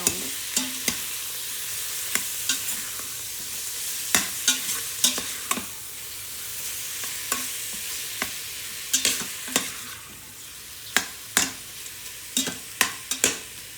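Beef tips browning in a pan, a steady frying sizzle broken by repeated scraping clacks of a utensil stirring and turning the meat, close and clear with no talk.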